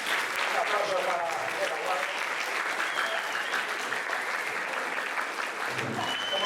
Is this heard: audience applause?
yes